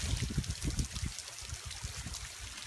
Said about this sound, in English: Got three with spring water coming over top of them.